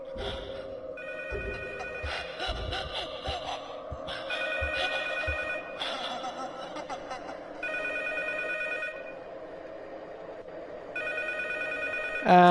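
A telephone rings in the horror video game P.T., sounding as repeated bright electronic trills in uneven bursts over a low, droning ambient hum, with a sharp sound at the very end.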